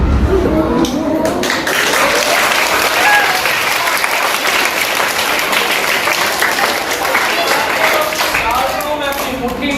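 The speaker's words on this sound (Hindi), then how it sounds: "हाथ खाली, और आपकी बजेंगी तालियां" Close, loud, sustained clapping rises from a group of students watching a magician's handkerchief trick, a dense wash of hand claps with no break.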